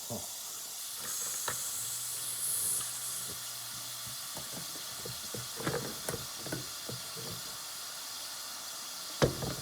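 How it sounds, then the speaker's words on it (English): Butter hisses and sizzles in a hot pan, a steady steam-like hiss with scattered pops and clinks of utensils, fairly quiet, while someone talks now and then. "So let's get this butter in the pan."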